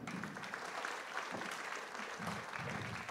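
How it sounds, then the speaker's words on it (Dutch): Audience applause for talk show guests at a cultural café evening in a monastery venue in Woerden, steady clapping of a modest crowd at moderate distance, filling the short stretch without talk. "Applaus voor mijn gasten."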